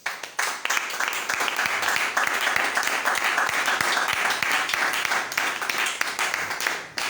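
Church seminary audience applauding steadily and loudly throughout, a dense wash of clapping with a brief swell at the start and scattered voices mixed in.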